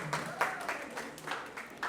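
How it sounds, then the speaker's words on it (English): A lecture audience on mental health applauds for a speaker, steady close clapping with a few sharper claps over about two seconds. "A round of applause for Mr. Shabir Khalfan."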